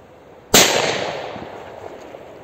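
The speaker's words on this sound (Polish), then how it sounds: "tej petardzie chyba pomogło wzmocnienie korpusu, bo była tak głośna" A single sharp firecracker bang rings out after a quiet moment, its echo decaying over the next two seconds.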